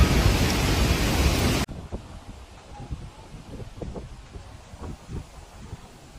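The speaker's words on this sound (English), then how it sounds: "As the rain intensified" A heavy rainstorm with thunder: a loud, dense roar of rain fills the first couple of seconds, then drops to a softer steady patter broken by scattered drips and low rumbling thumps.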